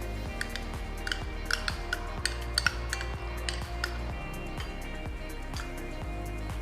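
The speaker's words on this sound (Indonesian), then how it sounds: "Tinggal campur aja sama 4 sendok makan saus teriyaki. Tinggal diaduk rata." A spoon clinks and scrapes against a bowl while mayonnaise is stirred together with teriyaki sauce for a rice burger, giving steady, close, light taps and scrapes over a constant humming background tone, with no speech.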